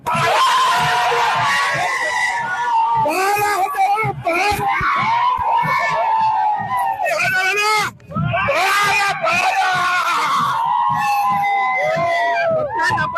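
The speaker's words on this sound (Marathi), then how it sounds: "या ठिकाणी मोठी गर्दी आहे दादा विजयाचा जो जल्लोष आहे" A large crowd celebrating an election victory in Hingoli for Santosh Bangar erupts in loud, continuous cheering and shouting, with many overlapping voices and screams close by throughout.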